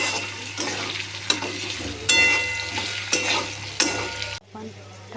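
A spatula stirs poha with added turmeric in a hot pan, giving a steady sizzling scrape with several sharp knocks against the metal before it stops abruptly near the end.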